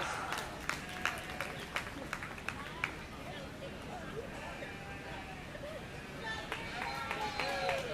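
Scattered clapping from the crowd at a 4-H/FFA market lamb show, honoring the exhibitors. Uneven claps pop over a steady murmur of voices and shuffling in a large, echoing arena, holding at moderate loudness throughout.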